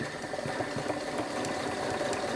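A sewing machine runs in a steady mechanical whir with rapid rhythmic clicking, close and fairly loud, no voices.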